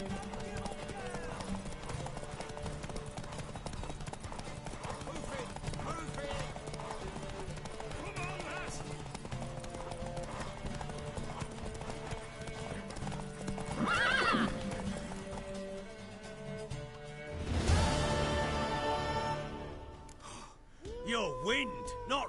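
Horse hooves clip-clopping in The Witcher 3, a steady run of hoofbeats with a whinny partway through and a louder burst of movement late on, with game voices speaking over it.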